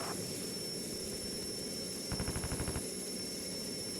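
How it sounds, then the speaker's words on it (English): A short burst of 20mm cannon fire from a fighter jet in the Strike Fighters 2 flight-combat game: a rapid string of heavy, evenly spaced shots lasting under a second, set against a steady, loud whining jet engine drone. "We'll give him a hand here with our 20mm cannons."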